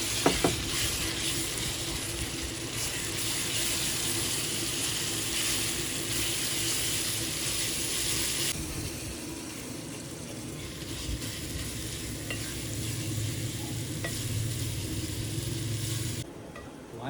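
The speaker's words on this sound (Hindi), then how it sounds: "तो अब इसमें जाएंगे टमाटर, और टमाटर को भी हम अच्छी तरह से भून लेंगे" Tomatoes fry with browned onions for a dhaba-style beef kaleji dish, making a loud, dense hiss that carries on for a long stretch. The sizzle shifts partway through, and faint stirring sounds come through under it.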